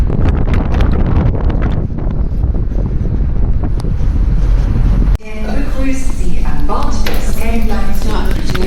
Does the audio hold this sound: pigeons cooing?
no